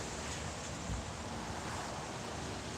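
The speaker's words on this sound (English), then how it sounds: "it's windy out here in California" Strong wind blowing outdoors in California, a steady broadband roar with gusty buffeting against the microphone throughout, no voices present.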